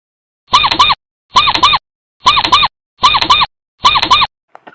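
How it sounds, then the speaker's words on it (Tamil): A mouse squeaks in five evenly spaced, shrill bursts, loud and close, with a faint tick at the end. "எலி,"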